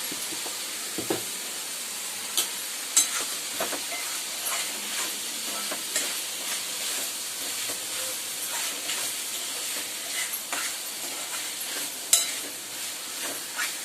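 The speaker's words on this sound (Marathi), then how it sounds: "भाजीला हे करते आणि परत तिला मी ढवळते" Okra vegetable curry frying in a pan gives off a steady, hissing sizzle, with light stirring clicks and scrapes scattered throughout at low volume.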